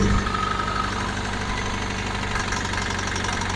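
An abandoned 1964 Farmall Cub tractor engine runs steadily at a loud, rough idle with a knocking, throbbing rhythm throughout.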